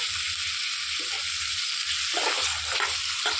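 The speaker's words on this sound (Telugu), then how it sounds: "ఇలా నూనెలో మగ్గిపోయేటప్పుడు ఒక చిన్న టేబుల్ స్పూను అల్లం వెల్లుల్లి పేస్ట్ వేసుకోవాలి." Ginger garlic paste fries in hot oil in a pan for an Andhra-style brinjal pulusu, with a continuous sizzle and occasional stirring knocks up close, and nobody speaking.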